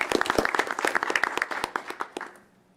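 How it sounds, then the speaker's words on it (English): Applause from a school board meeting audience, a burst of many hands clapping close and fairly loud that thins out and fades to quiet near the end. "Round of applause for that."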